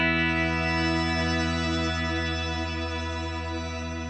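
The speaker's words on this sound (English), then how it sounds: "Here's the party verb, which to me, this is more like spacey type sounds versus actual like ambient stuff." An electric guitar played through the Headrush party verb reverb effect gives a sustained, shimmering spacey wash of tone, steady and loud, fading slightly toward the end.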